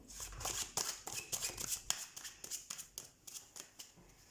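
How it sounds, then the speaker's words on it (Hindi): Tarot cards are shuffled by hand in a series of quick riffling, flicking bursts with brief pauses, close and moderately quiet, with no talk. "मैं कार्ड जब शफल कर रही हूँ ना"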